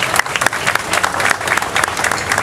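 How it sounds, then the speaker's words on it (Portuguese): A crowd applauds Dona Remédios at an outdoor civic square inauguration during a town festival, lively dense clapping with sharp individual claps standing out, loud and continuous throughout. "Uma salva de palmas,"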